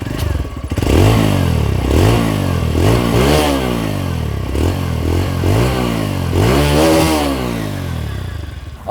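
A TVS Radeon commuter motorcycle engine runs loud and close for about nine seconds, with repeated throttle blips that rise and fall in pitch over a steady idle thump.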